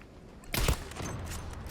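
Gunfire from the video game Zula: a short, loud burst of shots, then a steady, softer bed of game noise.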